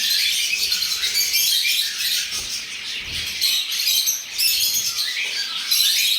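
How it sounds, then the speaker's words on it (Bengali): Shrill squawks and chirps of several six-month-old yellow-sided pineapple conure parrots overlap constantly, a busy chorus close by. "তো ইয়েলো সাইড পাইনঅ্যাপেল কনুর বন্ধুদের জন্য দাম রাখা হয়েছে মাত্র 1500 টাকা"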